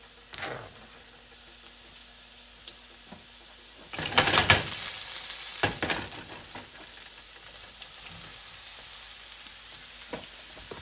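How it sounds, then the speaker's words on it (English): Pimento berries dropped into hot oil in a frying pan while making escovitch fish, an abrupt rise into a loud, close sizzle that continues steadily, with a few light clinks and scrapes around it. "Here I have some pimento berries. And put that in like so."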